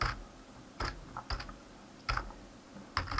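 Computer keyboard typing while writing webpage code, a handful of sparse, separate key clicks and taps close by, with quiet gaps between them and no talking.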